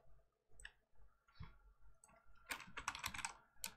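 A few quiet, scattered keystrokes tap on a computer keyboard close by, then a quick flurry of clicks follows near the end, with no voices.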